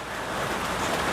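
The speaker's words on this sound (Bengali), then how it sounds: "এত জোরে বৃষ্টি হচ্ছে।" Heavy rain with big drops falls in a village and hits the ground in a loud, dense, steady wash. It sounds close and wide, with no voices.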